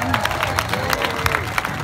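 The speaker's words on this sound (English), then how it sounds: "Give them the biggest round of applause of anything here today." A street show crowd gives performers a loud, brief round of applause, dense clapping mixed with cheers close by.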